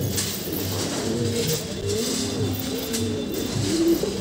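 Wild pigeon cooing close by, repeated soft low rolling coos in a steady rhythm over a constant background hiss.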